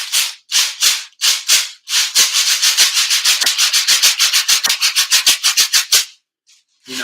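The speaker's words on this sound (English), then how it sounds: "Find something that you could shake. This is a jar, plastic jar of popcorn." A plastic jar of popcorn is shaken as a rhythm shaker, first in a few separate swishes, then in a fast, steady run of rattling strokes before stopping, loud and close.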